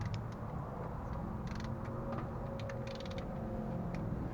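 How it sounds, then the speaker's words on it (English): Torque wrench tightening camshaft clamps on a Toyota 1GR-FE 4.0L engine, faint quick ratcheting clicks in a few short bursts over a low steady background hum. "torquing all the clamps for camshaft"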